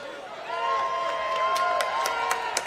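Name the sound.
football crowd applauding a goal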